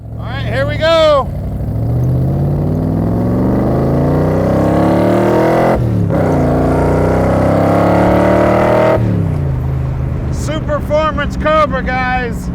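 A powerful 1965 Shelby Cobra Superformance engine, 460 horsepower, revs and accelerates, pitch climbing and falling through gear changes, loud and close, with brief tire or engine chirps at the start and end.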